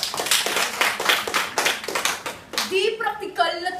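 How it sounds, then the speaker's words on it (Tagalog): An audience at a balagtasan, a Filipino poetic debate competition, claps in a burst of scattered, rhythmic applause for a few seconds, then a voice begins speaking as the clapping fades. "masigab ang palakpakan."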